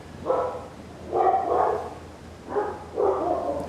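Dogs bark in four short bursts of paired woofs, moderately close and fairly loud, with brief pauses between them and no talking.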